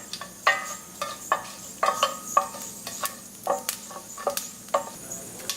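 Cumin and mustard seeds crackle in hot oil while a rice-cooking pan is stirred, sharp pops and clicks arriving in an irregular, fairly steady run at close range with no voices.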